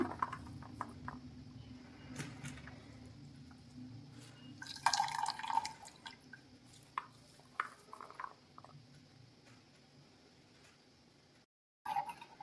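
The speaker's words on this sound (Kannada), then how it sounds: "ಈ ರೀತಿ ಎಲ್ಲ ಸೊಪ್ಪನ್ನು ನೀಟಾಗಿ ಈ ಥರ ಹಿಂಡ್ಕೊಂಡು ಹಾಕ್ಕೋಬೇಕು." Water dripping and trickling from squeezed cooked leafy greens for a Karnataka-style leaf sambar, a steady series of small close drips and splashes at moderate level, with a brief quiet gap near the end.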